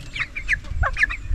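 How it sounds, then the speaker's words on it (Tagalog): Broiler chickens on a farm clucking, a few short close clucks and squawks in an uneven rhythm over low background rumble. "Oh, may naligaw na isang itim na manok. Broiler po yan oh."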